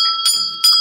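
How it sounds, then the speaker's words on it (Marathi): A panipuri vendor's hand bell rings loudly and close in two bright metallic strikes, each leaving a short shimmering ring. "ए भैया तू घंटी वाजू का रे?"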